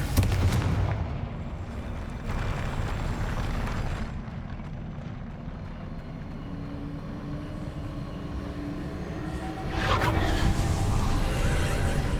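Confringo fire spells explode in Hogwarts Legacy: a heavy booming blast opens, a rumbling roar sustains beneath, and a second loud burst erupts near the end.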